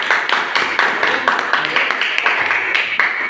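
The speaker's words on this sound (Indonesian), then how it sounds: "Ya, tepuk tangan anak-anak." Children in a classroom clapping together, a dense, fairly loud run of overlapping claps that goes on throughout.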